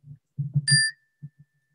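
A tuned bell bar is struck once after a few low spoken words and rings with a bright, clear multi-tone chime that fades slowly into a long, thin sustained tone.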